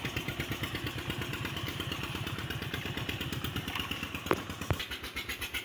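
Hero Splendor motorcycle riding along in first gear near farm fields, its steady engine chugging loud and close throughout, with a couple of sharp clicks or knocks near the end.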